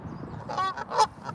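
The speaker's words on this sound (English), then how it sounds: "They're Canadian geese." Canada geese in an urban park give two quick, nasal honks in close succession, moderately near and slightly faint over quiet outdoor background.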